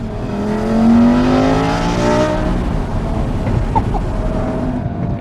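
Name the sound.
sports car downshift, engine revving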